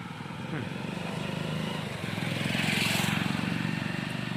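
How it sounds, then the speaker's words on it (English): Loud, noisy motorbike passing along a city street at night, its buzzing engine rising and swelling as it goes by, close and droning with a rapid pulsing rhythm. "Very noisy motorbike there."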